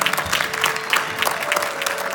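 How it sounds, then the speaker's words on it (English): Applause from a concert audience at an Indian classical esraj recital, a brief, moderately loud patter of many hands clapping continuously. "please give a big applause to Sarang Pandey sir"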